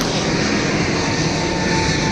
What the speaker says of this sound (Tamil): ஃப்ளைட்டு போது பாருங்க,